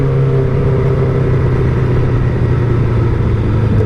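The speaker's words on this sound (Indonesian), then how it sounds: "Tapi kalau misalnya gue lihat jalanan kosong atau memang tidak mengganggu, ya gue kasih geberan kecil dikit lah" A Kawasaki ZX25R four-cylinder sport motorcycle runs steadily on the street, its loud, close engine note droning continuously with a constant high buzz and no clear rev spikes.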